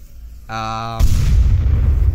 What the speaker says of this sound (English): Another frag's thrown, which is completely wasted.